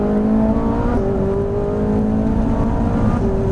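A Ferrari 458 Italia accelerates out of a corner on a circuit at Trappes, its engine holding a loud, steady high-pitched drone that climbs slightly in pitch as the revs build.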